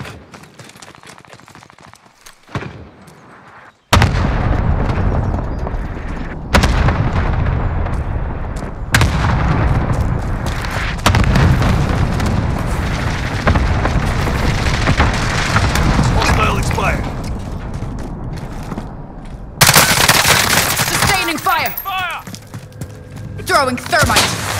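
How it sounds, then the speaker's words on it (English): A rapid series of loud booming cluster strike explosions crash in Call of Duty: Modern Warfare, the heavy blasts arriving in bursts with sharp onsets and rumbling tails, amid gunfire and game voices. "Allied cluster strike inbound."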